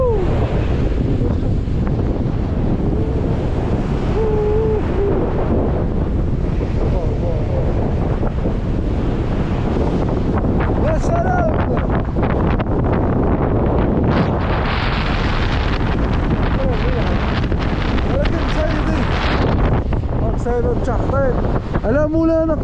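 A strong desert sandstorm wind roars and buffets the microphone without letup during a fishing outing, a loud continuous rumbling hiss that swamps everything, with a voice faintly audible near the end.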